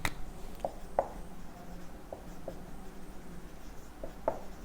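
Handwriting during a chemistry lesson on metals and non-metals: faint pen or marker strokes come in short separate bursts, a few scratchy touches spread over a quiet background with no talk.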